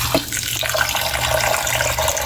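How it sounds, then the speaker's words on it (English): Steady stream of tap water running into a sink as peas are washed for Trinidad pilau, a continuous close splashing hiss with no talk. "wash out your peas, drain well"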